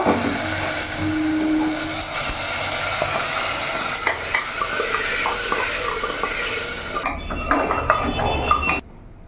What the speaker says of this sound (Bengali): এখানে চিকেনটা আমি ভেজে নিয়েছি, ভাজা ভাজা হয়ে গেছে